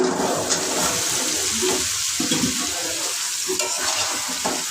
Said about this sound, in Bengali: ভালো করে কষিয়ে তারপরে সবজিগুলো দিয়ে দেব।